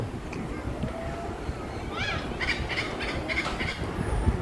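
Several quacking calls from a flock of ducks in quick bursts, heard over steady background noise and murmuring voices.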